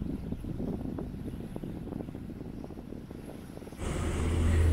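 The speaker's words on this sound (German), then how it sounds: "dann motoren wir jetzt" A sailing yacht motors toward Aegina off Salamina, its engine a low, steady churning rumble mixed with wind buffeting and water noise, growing louder and deeper in the last second.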